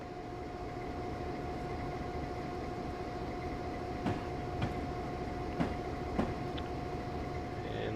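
A locomotive running slowly in the game Train Simulator 2013, a steady engine drone with a held tone and a few sharp rail clicks and clanks spaced through it, with no talk.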